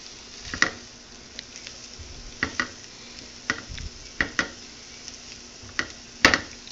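Breakfast food sizzles steadily in a frying pan while a utensil stirs it, scraping and tapping against the pan in irregular knocks, close and fairly loud.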